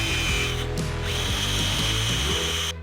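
A 3M eraser wheel spun by a drill scrubs old adhesive off the plastic sensor buckets of a third-generation Tundra rear bumper, a loud, steady whine that runs continuously and shifts pitch under load, with no talk.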